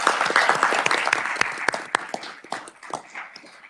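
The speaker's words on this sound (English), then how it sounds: "So could you give them another round of applause for their national?" A round of applause fills a Senate Ways and Means committee room, many hands clapping in a dense, steady patter with a few sharper individual claps standing out.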